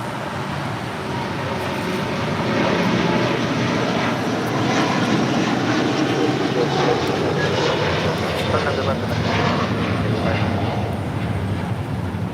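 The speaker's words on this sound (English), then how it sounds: "This is Latam Airlines 603 taking off to Santiago, Chile on a 787-9 Dreamliner." Latam Airlines Boeing 787-9 Dreamliner taking off from runway 25 right at LAX, bound for Santiago, Chile: a loud, steady broadband jet engine roar sustained throughout, with faint voices in the background.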